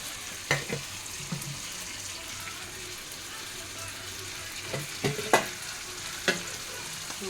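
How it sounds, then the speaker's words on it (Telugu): A tempering for ridge gourd peels sizzles in hot oil in a pan, a soft, steady fry broken by a few sharp crackles and pops. "వేసాక ఇదిగో తాలింపు వేస్తున్నాను. ఒకసారి చూడండి"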